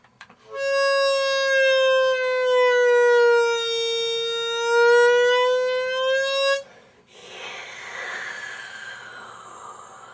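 A sustained, wavering harmonica tone on a D harmonica bends and dips in pitch over several seconds, then stops abruptly, leaving a soft breathy hiss.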